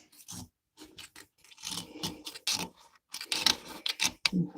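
A blade slices rubbery MAPEI waterproofing sealer off tile, giving short scraping, rasping strokes in irregular bursts with brief pauses between, close and moderately loud.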